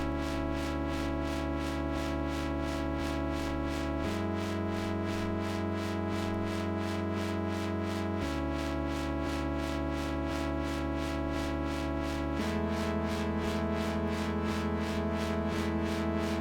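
Dark, moody synth chords in a housey electronic style, sustained and changing every four seconds or so in a slow progression, played alone with no voices.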